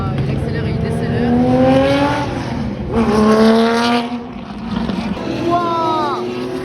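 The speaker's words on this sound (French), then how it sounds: "En fait, il accélère et il rétrograde." A vintage race car at the Nürburgring's Old Timer Grand Prix accelerates and downshifts, with rising engine whines, abrupt drops and renewed surges in several close bursts. Crowd noise sits underneath.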